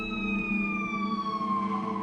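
A siren wails steadily, its tone sliding gradually lower as it passes, loud and close with no voices.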